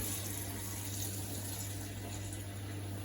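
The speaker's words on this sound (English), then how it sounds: "the first step is to fill up a big pot or a pan and fill it up" Tap water gushes steadily into a big cooking pot, a constant hissing, splashing stream with a low hum beneath it, fairly quiet and without talk.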